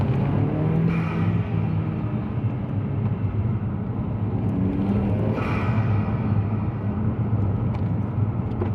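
A BMW F30 320i with the N20 engine, a Turner intake and a custom tune drives along with a steady, loud engine drone and road rumble. Two brief whooshing rises, like blow-off valve releases, stand out over it.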